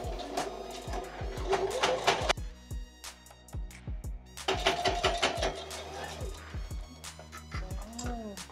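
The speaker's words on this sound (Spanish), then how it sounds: "vamos a pasar una puntada también de refuerzo en donde hicimos las" A sewing machine runs reinforcement stitches along the seams of men's jogger pants, its fast mechanical whirring in two long bursts broken by a short pause, close and fairly loud with no talking.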